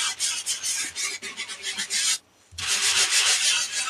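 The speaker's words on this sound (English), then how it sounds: "going to add some distressing on that with a little bit of sanding" Close, rapid rasping strokes of a sanding block distressing paper for a craft project, a continuous scratchy back-and-forth with one brief pause before resuming.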